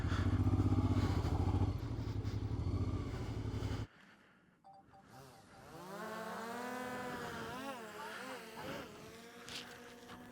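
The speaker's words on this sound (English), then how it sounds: "This bike really is an absolute pleasure to ride on and off-road" A Honda Africa Twin RD07 motorcycle rides off-road over grass, its engine droning loud at first, dropping away briefly, then rising and falling in pitch as the rider works the throttle.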